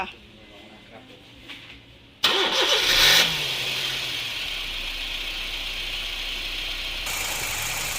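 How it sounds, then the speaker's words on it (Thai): A Honda City engine cranks and catches with a sudden loud start, then settles into a steady idle close by, after a few quiet moments with faint background sounds. "เดี๋ยวเราจะลองสตาร์ทเครื่องดูกันนะคะ สตาร์ทเครื่องค่ะ"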